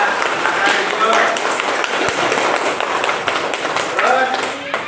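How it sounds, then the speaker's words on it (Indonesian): Classroom clapping for a student group after a presentation, a dense patter of many hands going on steadily throughout, with voices mixed in. "Beri aplaus tepuk tangan kepada kelompok 1."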